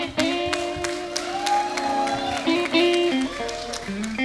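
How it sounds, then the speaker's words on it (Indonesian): Audience at a stage show applauds a guest star named Sista: a steady crowd of claps and cheers over loud music with sustained tones, lasting several seconds. "Tepuk tangan buat Sista."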